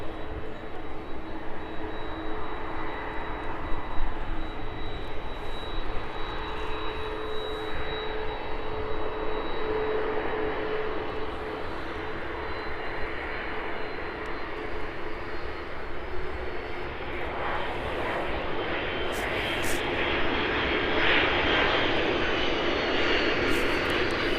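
Airplane passing low at about 500 feet over the end of Donington Park near the airport, a continuous engine roar that holds steady and swells slightly toward the end, with no talk.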